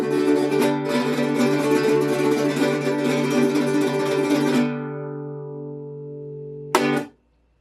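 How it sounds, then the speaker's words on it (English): A 17th-century Baroque guitar is strummed briskly for several seconds, then left ringing to decay, followed by a final short strum that is quickly damped; close and clear with no talking. "The Baroque guitar was the most common household instrument in the 17th century."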